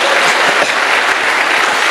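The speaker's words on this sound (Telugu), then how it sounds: "ఇంకో 3 నెలల తర్వాత ఈ వ్యక్తికి కూడా ఒకసారి చప్పట్లు కొట్టండి" Audience applause at a business training reunion event, steady dense clapping from many hands filling the whole stretch at even loudness, with no voices over it.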